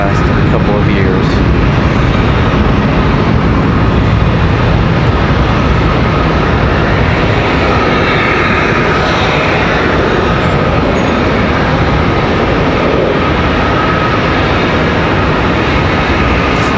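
Southwest Airlines airliner departing Charlotte Douglas International for Houston, a loud, steady jet engine roar that fills the whole stretch, with traffic noise and voices in the background.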